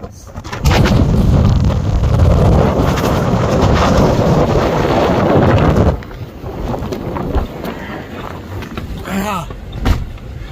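Strong winter storm wind in Canada with near-zero visibility roars loudly and steadily close to the microphone for several seconds, then drops to a lower, gusty rushing.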